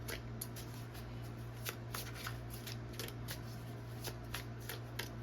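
Tarot cards are shuffled in a steady, rapid riffle of soft papery flicks over a low constant hum, with no voice heard.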